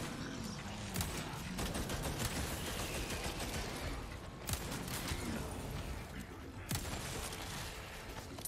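A magnum hand cannon fires in the Resident Evil 4 Remake game: heavy, booming shots go off one after another over dense, continuous game noise, with a few sharper blasts standing out.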